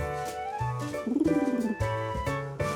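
A pigeon coos in a cartoon scene, a warbling call in the middle of the clip set among other light musical tones, with no talking.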